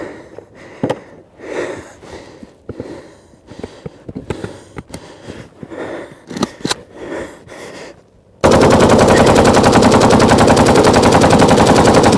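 Automatic gunfire from an overheated weapon cooking off: ragged bursts and single shots for about eight seconds, close and loud, then a dense, unbroken roar of continuous firing to the end.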